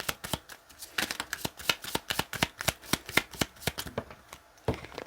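Tarot cards riffled in a rapid shuffle, a dense run of crisp, close flutters and slaps that keeps going for several seconds with no voice over it.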